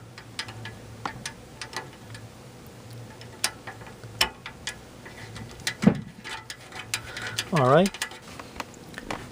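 Small screws being driven into an HP Envy desktop PC case with a screwdriver: faint clicks, ratchet-like ticks and brief metallic scrapes, close by, with a squeaky twisting burst near the end and no talking.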